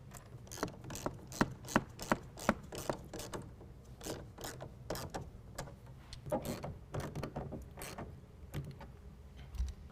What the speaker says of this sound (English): we're going to tighten it down with a 1/2 inch ratchet on the front and a 1/2 inch wrench on the back